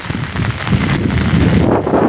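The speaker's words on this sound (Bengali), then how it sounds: "আকাশের অবস্থা খুব খারাপ প্রচণ্ড ঝড় বৃষ্টি হচ্ছে" A heavy storm in Kolkata: loud, dense rain and gusting wind roar steadily and close to the microphone, with strong wind buffeting and no voices.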